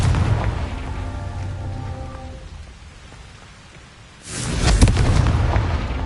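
A Confringo fire spell blast in the video game Hogwarts Legacy bursts loudly near the end, a sudden explosive boom with crackling rumble following a quieter stretch of rain-like ambience and faint musical tones.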